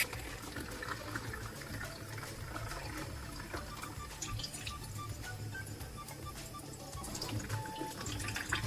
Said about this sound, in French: plutôt je vais l'ouvrir sous l'eau froide